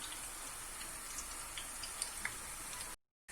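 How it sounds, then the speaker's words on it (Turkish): Steady sizzling of meatballs frying in oil, a soft continuous crackle with a few sharper pops, ending in a brief cut to silence. "Köftelerimi kızarttım arkadaşlar"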